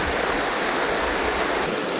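A strong river rushes past a campsite on Vancouver Island, a loud, steady, dense roar of flowing water throughout with no voices.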